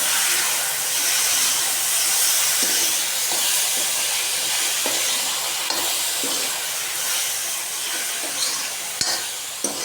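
Tomatoes frying in a hot pan with onions and salt for bharta, a loud continuous hiss and sizzle with occasional stirring scrapes and clicks.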